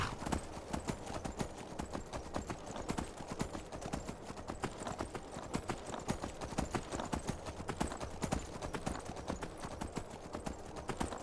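Steady clip-clop of horse hooves in the video game Skyrim, a continuous rhythmic trotting beat that stays fairly close and even throughout, mixed with game ambience.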